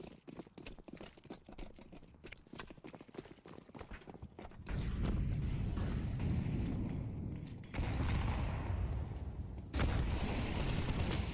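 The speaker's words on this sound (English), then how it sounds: "Great nade onto Kadim" A grenade explodes during a first-person shooter esports playoff match: faint clicking footsteps and gunfire give way to heavy, rumbling booms that swell and recur over the second half.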